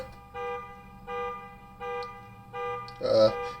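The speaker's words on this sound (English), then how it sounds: "The loud blaring of a car alarm" A video game car alarm blares in repeating bursts, four even tones followed by a louder, harsher burst, sounding electronic and moderately close.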